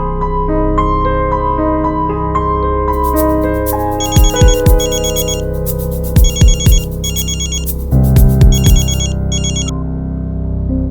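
A phone ringtone rings during a call, a loud melodic tune with bursts of bright repeated chimes, playing steadily for about eleven seconds without talk.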